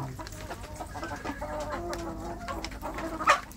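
Free-range village chicks in a rearing pen cluck and chirp softly nearby while being fed wet feed, with scattered pecking and rustling sounds and one sharper call near the end.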